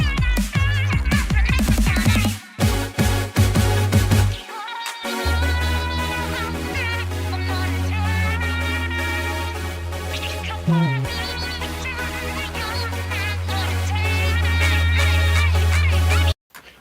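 A fan-made song plays for about seventeen seconds, a full electronic track with vocals, strong bass and a brief drop near the start, loud and continuous without talk.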